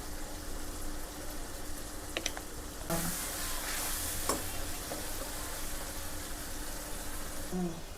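Tomatoes frying in a pan for an Andhra-style sea crab curry, a continuous close sizzle with occasional stirring scrapes and a louder burst of hiss partway through, no voices.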